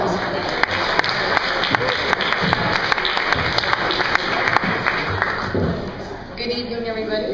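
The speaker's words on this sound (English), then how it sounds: "so let's give her a really big round of applause" An audience at a Parkinson awareness event breaks into a big round of applause, dense clapping with sharp individual claps standing out, fading near the end as a voice begins over it.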